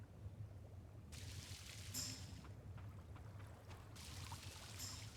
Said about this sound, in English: manually water all of this.